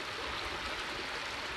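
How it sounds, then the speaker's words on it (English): A creek overflowing after rain beside a hot springs area rushes and gurgles steadily, a dense, even wash of water close by with no pauses. "This creek here is overflowing."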